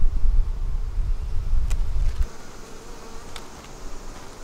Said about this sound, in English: I've got a bee trying to get into my veil.